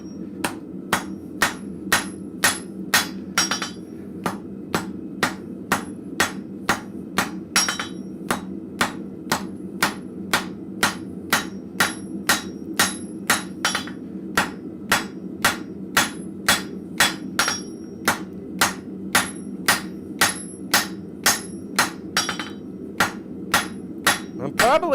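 A blacksmith at Red Maple Forge strikes steel on an anvil to bend and taper a shelf bracket with hooks, a long run of sharp, ringing hammer blows in a steady rhythm, close and loud, with no talk.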